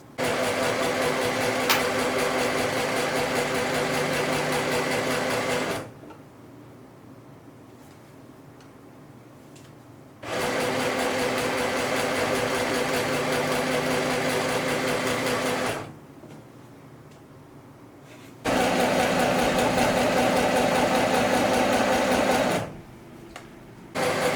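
A sewing machine stitches a 1 cm seam on a pair of short pants, running in three steady mechanical bursts of several seconds each, with quiet pauses between them.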